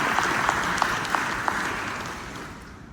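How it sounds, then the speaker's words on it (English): Steady conference keynote audience applause fills the space, with a few sharper claps standing out, gradually fading toward the end. "Give a round of applause."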